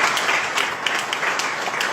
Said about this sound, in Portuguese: vamos receber esse abençoado com uma salva de palmas para Jesus